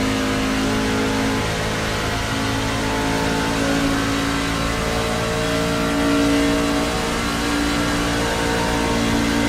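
A NASCAR Craftsman Truck engine accelerates on track at Texas Motor Speedway, a loud, sustained roar with rising tones heard close throughout, with no break in the sound.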